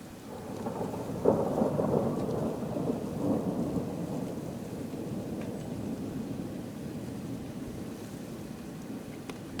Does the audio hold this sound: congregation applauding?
no